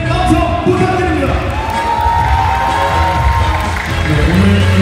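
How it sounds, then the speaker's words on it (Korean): Guests at a wedding in a grand ballroom applaud the bride and groom, a dense, steady wash of clapping and crowd noise with cheers and voices mixed in, plus a sustained musical tone running through the middle. "오늘 대박하시는 두 주인공을 위해서 축복의 박수 부탁드립니다"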